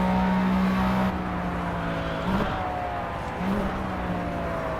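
A McLaren F1 at Le Mans in Project CARS, spinning its tires in second gear at speed, gives a loud sustained engine whine that drops at gear changes.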